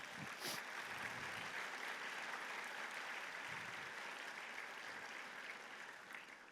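Faint, distant applause from a church congregation, a steady wash of clapping heard from afar at low level, easing slightly toward the end.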